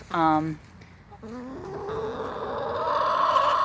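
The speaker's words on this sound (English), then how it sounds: "I love keeping chickens." Backyard hens in a hen house give a few clear, close clucks and squawks at the start, then a softer call, before a steady background murmur takes over.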